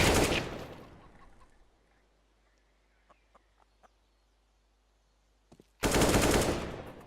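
Automatic rifle gunfire in a CS:GO match comes as two loud, sustained bursts, one at the start and one at the end, with a near-silent stretch between them broken only by a few faint clicks.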